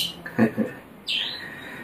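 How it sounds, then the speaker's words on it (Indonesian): A few bird calls ring out close by: two short squawky notes followed by a longer sweeping chirp, heard clearly against a quiet background. "kita sambil mendengarkan suara burung"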